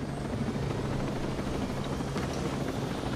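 An armored MK2 helicopter in a video game flies with a dense, steady rotor-and-engine roar, loud and continuous throughout with no pauses.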